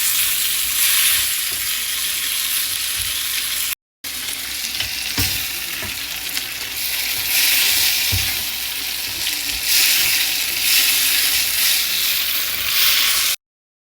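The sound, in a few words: stirring callos ingredients frying in a pan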